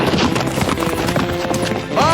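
Cartoon horse hooves clip-clopping at a steady trot, loud and continuous, mixed with music and background voices from an animated Western adventure.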